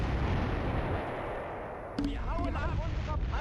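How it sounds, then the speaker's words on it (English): Artillery fire in the World War II strategy game Close Combat III rumbles as dense, continuous booms and blasts, then a short electronic tone chirps over the barrage; a voice briefly sounds near the end. "Ooh, artillery. Artillery everywhere."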